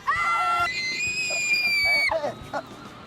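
A woman screams loudly and at length, a shrill sustained cry in a dramatic scene, followed by a short second yelp and brief talk.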